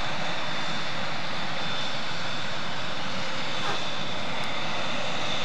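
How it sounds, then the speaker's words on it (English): DC-10 jet freighter, likely Gemini Air Cargo, at an airport: a steady, loud broadband engine roar that holds constant throughout, with no talk. "Then it comes the DC-10"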